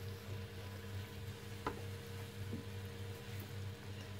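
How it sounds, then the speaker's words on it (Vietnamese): Smoked bacon and onion sauté in a pan with a steady, moderate sizzle and one brief tap of a utensil. "Mình xào chung với hành tây."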